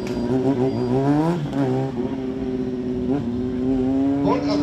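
Motorcycle engine revving hard at a motorbike show stunt demonstration, a loud sustained roar with rising and falling pitch that swells and eases over several seconds, with crowd noise underneath.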